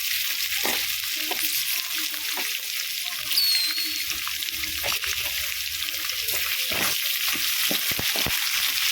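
Two thick-cut onions frying in a pan for uppittu, a constant crackling sizzle with scattered sharp pops and stirring scrapes, close and fairly loud.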